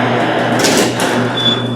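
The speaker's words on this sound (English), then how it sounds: "it triggers the garage door to open and close" A garage door opener switched on and raising the door gives a steady mechanical hum with a faint rattle, holding at an even level for almost two seconds before cutting off.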